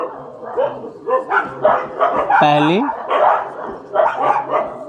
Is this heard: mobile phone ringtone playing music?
no